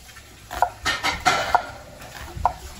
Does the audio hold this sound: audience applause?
no